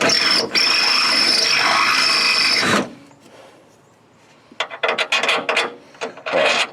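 A tool enlarges a screw hole in a window stop for an IROC Camaro door. Nearly three seconds of loud steady grinding stop abruptly, then after a quiet pause come short bursts of scraping and rasping, close and with no voices.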